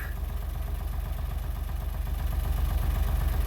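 A Smart Fortwo MHD engine idling steadily, a close, even low rumble with a rapid regular pulse that grows slightly louder toward the end, no voices.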